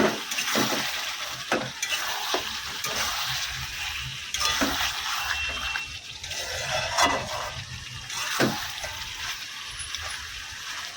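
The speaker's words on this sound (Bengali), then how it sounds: "পুরো মাটনটা দিয়ে এবার নেড়ে নিচ্ছি।" Parboiled mutton stirred in a hot frying pan, a steady broad sizzle with repeated scraping strokes of the spoon against the pan at irregular intervals, close and fairly loud.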